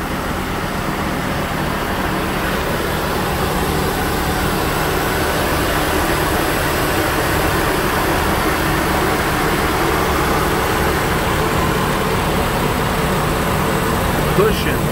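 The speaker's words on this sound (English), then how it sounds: "I didn't want to forget an engine shot. Listen to how good this car runs." Honda Accord EX V6 with nearly a quarter million miles idling, a steady low engine drone that holds evenly throughout, loud and close.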